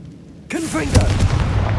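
A Confringo blasting curse bursts in Hogwarts Legacy, a sudden loud boom with rising whooshing streaks, followed by a sustained rumbling blast that lingers and fades slowly.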